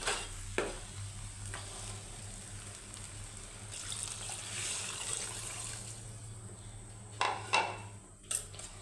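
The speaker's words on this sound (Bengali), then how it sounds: "এখন পরিমাণ মতো পানি দিয়ে দেবো এর সাথে" Water is poured into a cooking pot of rice and lentils being made into vegetable khichuri, making a steady, close running and splashing sound with light clinks of utensils near the end.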